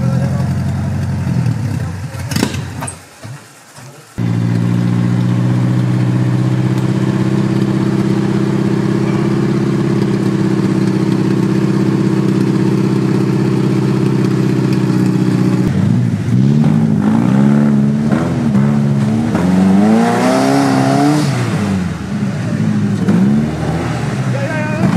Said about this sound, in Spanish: Este samurái está con problemas en los ejes, está solamente tirando